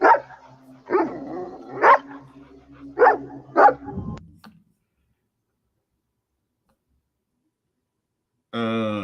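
A dog barks several times in a TV episode, a run of sharp, fairly loud bursts over a low background, followed by silence and then a brief tonal sound.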